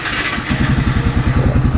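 A Kawasaki W175TR motorcycle engine fires up after a short quiet moment and settles into a loud, close, steady thumping idle with an even pulsing beat and a light mechanical clatter.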